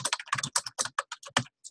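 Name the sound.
typing on computer keyboard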